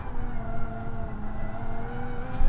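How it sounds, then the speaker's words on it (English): A Gr.3 race car at the Nordschleife in the GT Sport video game runs with a steady whining, whooshing transmission tone, several sustained pitches held over a low engine rumble, fairly loud and without talk. "All you're really hearing is kind of like a whiny whooshing sound from the transmission, or from the differential"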